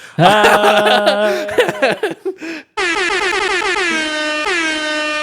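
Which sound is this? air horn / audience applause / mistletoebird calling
air horn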